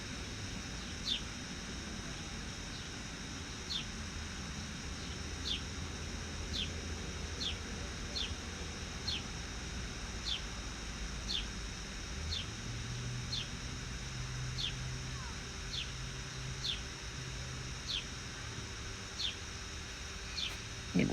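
Faint, regular high chirps repeat steadily through a constant outdoor hiss, like small birds or insects calling at a distance, at sunset in Arizona.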